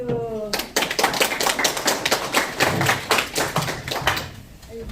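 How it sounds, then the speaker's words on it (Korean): Audience at a Korean lawmaker's local constituency report meeting breaks into clapping, a dense run of sharp hand claps filling the room for several seconds, fairly loud and close, with a brief tone at the very start. "네, 박수."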